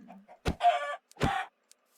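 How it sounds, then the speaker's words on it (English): A chicken gives a couple of short, close clucks with sharp onsets, each lasting a fraction of a second, separated by brief silence. "Yes, a chicken."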